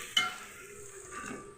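Ginger garlic paste dropped into hot oil for biryani, a brief sizzle with a sharp metallic clink at the start and soft stirring scrapes after, close and moderately quiet.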